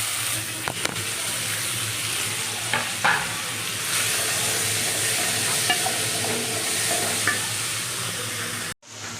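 Fennel seeds, cinnamon, cloves and stone flower sizzle steadily in hot oil for a mutton gravy, a dense continuous frying hiss with occasional stirring clinks, close up, cutting off abruptly at the end.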